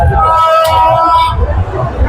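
Dense crowd babble at the Dasara festival grounds in Hingoli, India, many voices chattering at close range with someone talking over the hubbub.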